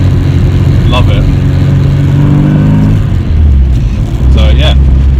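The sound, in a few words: car engine while driving, 1312 with SC throttle body injection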